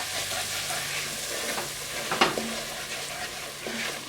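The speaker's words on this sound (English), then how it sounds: "Stir that in." Flour being stirred into a hot pot while making cream of asparagus soup, a steady scraping stir over a low sizzle with a few sharper scrapes near the middle, close and moderately loud with no talking.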